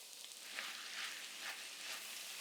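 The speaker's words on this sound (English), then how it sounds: "Now add the beef back into the pan" Beef for a Korean beef stir fry hits a hot pan and sizzles, a steady soft frying hiss with a few brighter bursts as the meat settles in.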